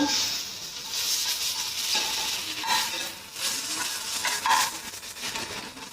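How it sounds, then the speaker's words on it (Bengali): Sliced onions sizzle in hot oil in a pan where fish was just fried, a steady moderate crackle with occasional sharper spits and faint stirring, no voices present. "পেঁয়াজ কেটে রেখেছিলাম এই তেলের মধ্যে দিয়ে দিলাম পেঁয়াজগুলো"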